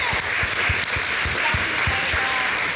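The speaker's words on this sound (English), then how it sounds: "I want to give all of our panelists a hearty round of applause" An audience at a panel discussion on collecting applauds the panelists, a dense, steady round of clapping that stays even throughout the short stretch, with rhythmic thumps underneath and no talk.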